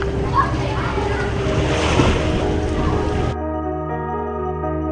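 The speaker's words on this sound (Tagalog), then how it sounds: "Ang ilang kapitbahay nila ay sumasakay sa demotor na bangka." Motorboat engine droning with water and wind noise, fairly loud and close, then the steady hum continues as the wash fades.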